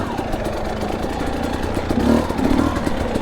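An off-road motorcycle, a two-stroke trail bike, rumbles over rocky trail ground with a low engine drone, a brief rev, and rattling clatter from the chassis, heard close and continuous.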